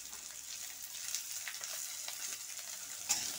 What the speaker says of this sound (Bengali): এই আলুগুলো ছেড়ে দেবো, ভাজা করব।